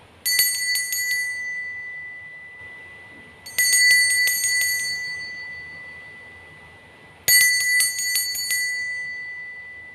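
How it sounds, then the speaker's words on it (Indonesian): Three bursts of a bright, ringing bell, each struck in quick repeated dings that fade slowly, spaced a few seconds apart with no talking. "Kita akan mulai dengan ditandai lonceng berbunyi."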